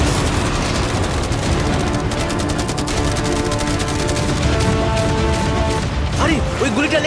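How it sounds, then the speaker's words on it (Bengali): Machine gun and cannon fire, with fireworks, arrows and catapults, aimed at a yacht: dense, continuous loud barrage with crashes and booms, voices shouting over it near the end. "মেশিন গান ছাড়াও আমাদের কাছে 100টা ক্যানন বল আছে"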